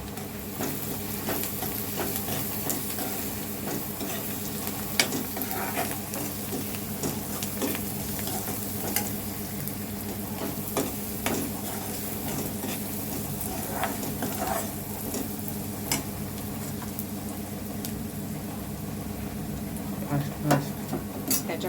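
Salted onions fry in a pan, sizzling steadily while a spoon stirs and scrapes against the metal at irregular moments; a voice talks intermittently over the cooking.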